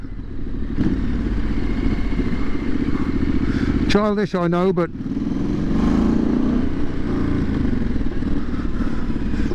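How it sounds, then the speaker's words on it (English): A Triumph SS 900 motorcycle engine rumbles steadily on a busy street, then its exhaust briefly barks and revs in a short burst before settling back, with someone speaking over it. "That taxi's going to stop right where I was going to give my exhaust a blast."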